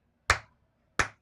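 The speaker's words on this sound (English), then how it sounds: "That's a slow clap." Slow clap: two sharp single handclaps set roughly three quarters of a second apart, close and crisp against quiet, with no voices.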